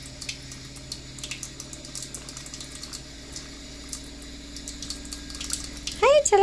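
Tap water running indoors near a frightened pet bird, a faint steady trickle with small splashes, then a bird's chirps and a louder burst right at the end.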